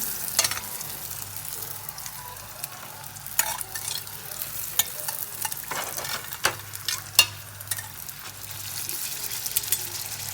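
Thin Fasnacht dough frying in hot oil, basted with spoonfuls of oil and turned, giving a steady soft sizzle broken by repeated sharp splashes and scrapes, close by with no talk.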